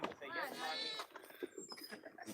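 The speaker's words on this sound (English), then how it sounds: "There's the young baby goat." Goats, including older ones and a young kid, bleat in a farmyard at hay-spreading time, a few close wavering calls mixed with voices talking nearby.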